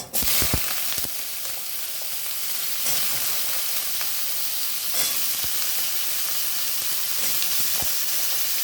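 Bottle gourd greens tipped into hot oil tempering in a pan hiss loudly and evenly, a dense close sizzle that holds steady after a few clattering knocks at the start, with no speech.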